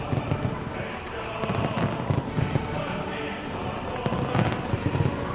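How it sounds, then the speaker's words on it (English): Fireworks at a large outdoor national anniversary gala in Tiananmen Square, Beijing: a dense stream of distant pops and crackles under a steady crowd roar and an announcer's voice. "The gorgeous fireworks on display now symbolize our motherland's glory and vitality."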